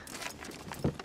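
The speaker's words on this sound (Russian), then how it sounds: "Лошадки, лошадки." Horse hooves clip-clop in two short, close knocks near the end of a brief stretch of quiet outdoor background, at a family New Year film scene where a horse-drawn ride has just arrived.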